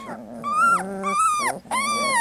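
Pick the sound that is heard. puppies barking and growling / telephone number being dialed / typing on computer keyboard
puppies barking and growling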